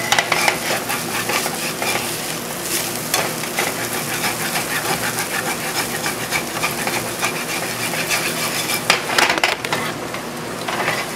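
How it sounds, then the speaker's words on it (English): A utensil scrapes browned hash brown potatoes off the bottom of a skillet, continuous rasping scrapes and stirring over a soft sizzle, close and busy with occasional clatter, no talk. "See how I'm scraping up the brown portion to have the bottom of the skillet nice and clean"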